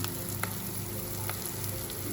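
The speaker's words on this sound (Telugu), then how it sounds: "ఈ ఉల్లిపాయలని కొద్దిగా ఫ్రై చేసుకుందాం." Sliced onions with a little salt frying in a pan for egg curry, giving a dense, steady close sizzle with a few faint crackles and no talk over its short length.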